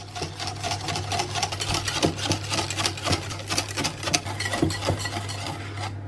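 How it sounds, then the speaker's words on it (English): Parsnip bread batter made with Greek yogurt and coconut flour is whisked in a bowl, with quick continuous rhythmic strokes over a steady low background hum. "So now we'll whisk all that together."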